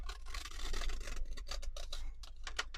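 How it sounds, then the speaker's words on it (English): Scissors snip away the dark scanned border from a paper receipt for a rose-themed junk journal, giving a run of close, crisp cutting and rubbing sounds with no talk. "I like to cut off the black line"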